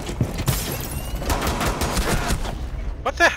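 Bursts of gunfire in Rainbow Six Siege on the Yacht map, several sharp shots and quick volleys scattered across the moment, fairly loud against quieter game ambience.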